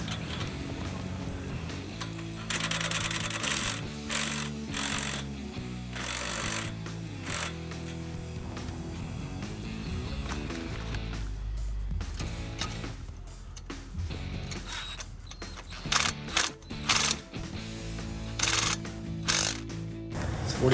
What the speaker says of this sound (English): Changing over from 13mm for the rear bolts to 15mm for the